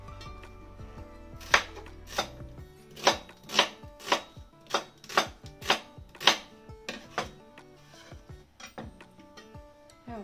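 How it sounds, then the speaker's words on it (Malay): A knife chops an onion on a board for Korean soft tofu stew, steady close strikes in a quick run of about a dozen sharp chops with short pauses between. "kita potong bawang bombay 切洋葱"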